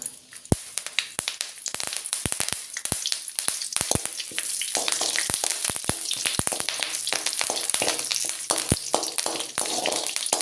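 Curry leaves and three or four dried red chillies sizzle in hot oil in a Kerala-style pan, a dense steady crackle with sharp spitting pops scattered throughout, close and alone.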